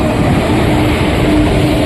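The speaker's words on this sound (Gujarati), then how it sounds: "ફાઇનલી મિત્રો આપણી ટ્રેન આવી ગઈ છે" A train arriving at a station rumbles loud and close, a dense, steady low roar of wheels and carriages with no pauses.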